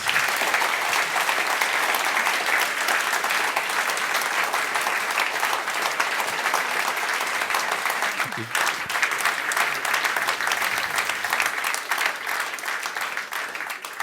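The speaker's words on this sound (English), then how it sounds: "I think we can give you another round of applause" After a lecture by Timothy Snyder on Belarus, a large audience applauds in a long, sustained roar of clapping that stays loud and even, with a brief dip partway through before resuming.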